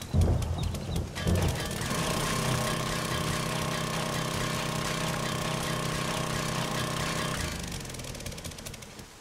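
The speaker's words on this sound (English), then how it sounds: "I'm sure me drilling into this ground and making a massive amount of noise won't attract any zombies." A power drill bores into the ground in 7 Days to Die. It starts with choppy mechanical rattling, then settles into a loud, steady whirring drone with a sustained tonal whine for several seconds before winding down, with no talking.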